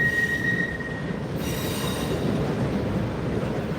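A CSX freight train with a distributed power unit rolls past close by in a steady, loud rumble, a brief high wheel squeal over the continuous clatter of rail cars.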